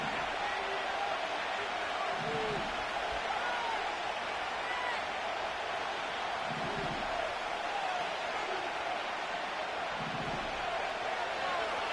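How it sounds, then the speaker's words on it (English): Stadium crowd in Madden NFL 25, an American football video game, a steady broad roar of cheering and crowd noise filling the whole stretch at even loudness, with a few faint low thuds beneath. "This crowd into it now as we get to 3rd down."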